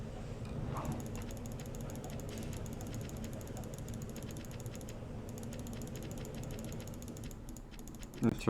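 Rapid, steady mechanical clicking while playing Diablo II, like a mouse button hammered nonstop, running continuously at a moderate level with a couple of louder knocks near the end.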